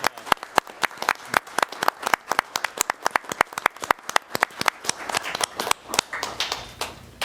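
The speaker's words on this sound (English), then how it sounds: "Let's give this team a round of applause." Applause for a team at a commissioners' meeting, a modest group clapping in distinct, fairly even claps that thicken toward the end, close and moderately loud with no speech.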